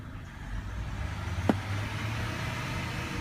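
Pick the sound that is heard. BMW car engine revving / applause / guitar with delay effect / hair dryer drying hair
BMW car engine revving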